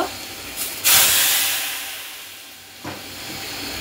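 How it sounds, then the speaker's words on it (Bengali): Hot garlic tempering hits a pot of lentils with a sudden loud hiss of steam and sizzle, then fades slowly, with a second brief spatter near the end. "এখন আমরা ভাগার দিব।"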